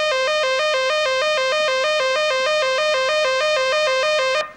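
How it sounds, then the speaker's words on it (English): A synthesizer note jumps between two pitches under a square-wave LFO, flipping in an even, steady on-off pattern for several seconds. The tone is bright and continuous with no voices, then stops at the end. "square waves"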